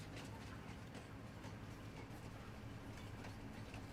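A train running in the video game Farming Simulator 22 gives off a steady, dense rumble with rhythmic clickety-clack from its wagons, constant and fairly quiet throughout.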